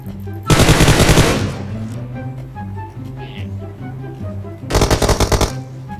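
Two bursts of rapid automatic gunfire in the video game PUBG Mobile, one at the start and one near the end, over a low droning background hum.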